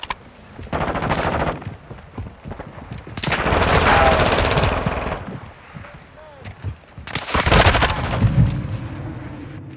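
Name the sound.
gunfire in the video game Call of Duty: Modern Warfare 2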